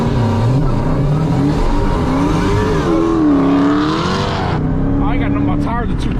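A 2020 Mustang GT500 launches hard on cold tires, its loud engine rising and falling in pitch as it revs and nearly spins out, with voices talking over the engine.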